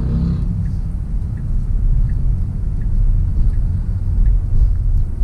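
A Tesla Model Y pulls away quietly, giving a low continuous rumble of tyres and road noise with a faint steady whine, no voices.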